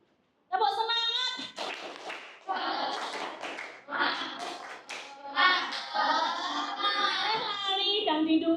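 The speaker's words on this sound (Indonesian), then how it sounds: "Tepuk semangat." Schoolchildren in a sixth-grade maths class chant the 'tepuk semangat' spirit clap in unison. Their lively sing-song voices are punctuated by sharp group claps at an uneven, patterned rhythm.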